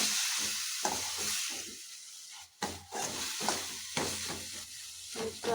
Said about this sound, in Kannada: ಎಲ್ಲ ಮಸಾಲೆ ಕೂಡ ಫ್ರೈ ಆಗಿದೆ